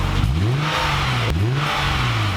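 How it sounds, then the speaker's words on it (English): A car engine with an aftermarket F Sport exhaust revs twice, climbing sharply and dropping back, loud and close with a deep, throaty exhaust note. "Did you enjoy revving your car?"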